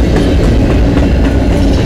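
CN freight train 396 passes close by on the Dundas Subdivision rails in London, Ontario, a loud, continuous rumble with rhythmic clickety-clack of wheels over joints and no talking.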